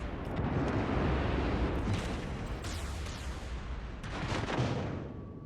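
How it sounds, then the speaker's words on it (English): Warship secondary guns firing in World of Warships Legends, a dense rolling barrage of booms and blasts that swells, eases and swells again, with no talk. "Secondaries are firing."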